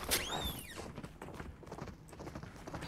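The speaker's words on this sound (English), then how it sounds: "I hear footsteps." Rapid hoof-like clip-clop footsteps patter steadily during a Fortnite match after a brief sharp cry at the start, mid-distance and fairly quiet, with no talk over them.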